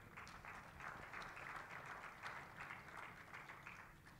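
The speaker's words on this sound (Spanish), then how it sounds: "Un fuerte aplauso, por favor." Steady crowd applause, many hands clapping together in a dense, continuous patter at moderate distance.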